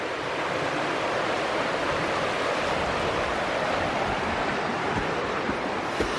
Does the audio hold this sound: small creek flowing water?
yes